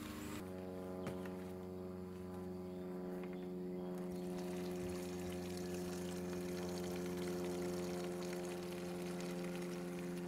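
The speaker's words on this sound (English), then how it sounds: "This thing's spitting out a lot of water pressure." Water gushes steadily from the spigot of a terra cotta rain barrel, a constant hissing, rushing flow at moderate level with no talking.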